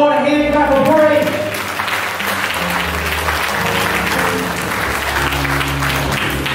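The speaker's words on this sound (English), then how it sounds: "Let's give the Lord a hand clap of praise." A church congregation gives loud, sustained hand clapping in praise to the Lord, with music and voices mixed in beneath the clapping.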